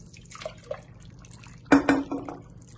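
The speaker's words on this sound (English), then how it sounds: "I'm adding 5 cups of water." Five cups of water are poured into an Instant Pot for minestrone pasta soup: a short, close splash with faint clinks of cookware, and no talking.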